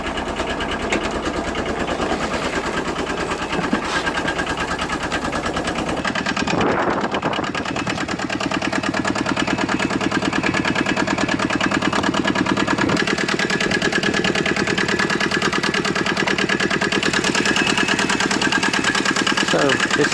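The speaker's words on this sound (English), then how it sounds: "So this is a little diesel engine." The small diesel engine of a Citroen GS converted to a van idles with a steady, fast mechanical chatter. The idle holds loud and even throughout, with a brief shift in tone partway through.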